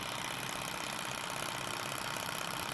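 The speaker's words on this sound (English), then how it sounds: "this is a very good Stirling engine" A Sunnytech Stirling engine model running at high RPM, a dense, steady whirring buzz with a fast, even mechanical flutter, close and continuous with no talking.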